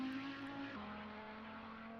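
Race car engine in a sim racing game of a classic DTM legends race, a steady high drone with a sustained whine that drops in pitch partway through and then holds, loud and continuous with no talk.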